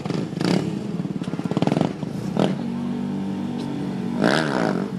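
Motorcycle engines rev at a street trick meet on Staten Island, rising in a rapid throttle burst, then idling and roaring again at mid distance, with people talking nearby.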